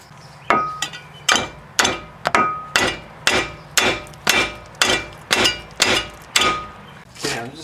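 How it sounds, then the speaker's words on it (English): Steady series of sharp metallic hammer blows on a ball joint of a 1999 Pontiac Grand Prix, about a dozen evenly spaced strikes ringing out close by, with a faint voice in the background. "I'm gonna pry and hit it with a hammer"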